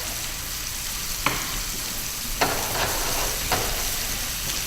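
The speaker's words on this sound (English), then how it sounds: "Once it is hot, we're going to add the scallops down, facing downwards, with the salt and pepper side facing down" Scallops sear in a hot pan with a steady, loud sizzle that fills the whole clip, broken by a few soft clicks and shuffles from the pan. No voices.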